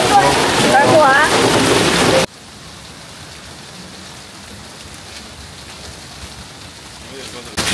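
Rain falls in a steady, dense hiss during a rainy day at a school in Singapore. It plays loud at first under a voice, then drops abruptly to a quieter, continuous patter.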